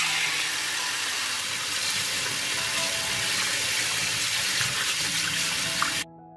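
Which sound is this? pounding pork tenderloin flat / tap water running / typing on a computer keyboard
tap water running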